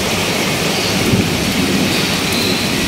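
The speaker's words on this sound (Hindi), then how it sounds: "अभी भी बारिश हो रही है" Heavy monsoon-style rain pours down outside an open window, a dense, loud, unbroken hiss of downpour that stays constant throughout with no voices.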